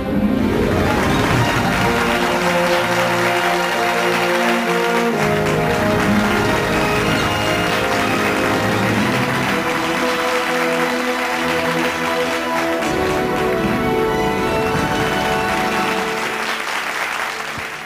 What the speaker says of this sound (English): Please applaud generously for the AMW 2518 TP.